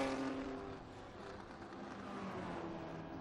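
Historic race cars at the Estoril Classics race, including a Porsche, roar past in a steady, loud engine drone that swells slightly toward the end, with no talk.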